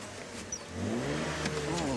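The engine of a safari game-drive vehicle revs and rises in pitch as it strains while failing to go into reverse. The sound is mid-loud and close, with a brief voice early on.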